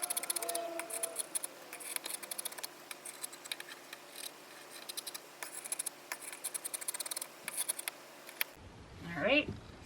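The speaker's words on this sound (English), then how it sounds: "I'm going to cut the heart shape." Scissors snip through layered flannel fabric along a heart-shaped outline for a small-animal play mat, giving a steady run of quiet, close clicks and scrapes that ends with a brief louder rustle.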